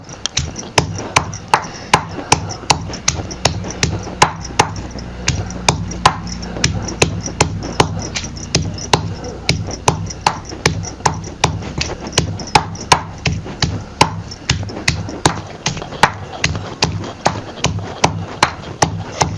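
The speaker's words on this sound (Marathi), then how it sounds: "आधी जरा मिरच्या बारीक करून घेते कलबुतल्यातली चटणी का नाही लई भारी चविष्ट लागते बघा" Green chillies pounded fine in a stone mortar and pestle for ridge gourd chutney, a long run of sharp, evenly spaced thuds close by, steady and rhythmic throughout.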